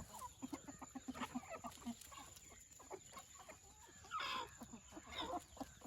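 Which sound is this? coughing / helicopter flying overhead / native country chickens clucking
native country chickens clucking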